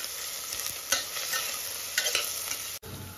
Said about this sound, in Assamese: এতিয়া পিঁয়াজখিনি ভালকৈ ভাজি লৈছোঁ